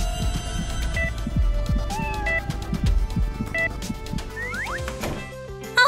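A kitten meows repeatedly over a busy backing track, the cries rising and falling in pitch in short clusters, with a few longer caterwaul-like calls toward the end.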